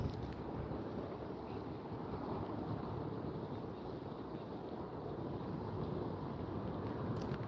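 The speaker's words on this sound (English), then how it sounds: "It's been super freaking windy." Strong wind blows across a lake during bass fishing, a loud, steady low roar buffeting the microphone without a break and with no talking.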